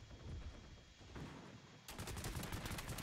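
Enemy gunfire in Heroes & Generals crackles as rapid bursts of shots, faint at first and then a louder, denser string of fire near the end, with no talk over it.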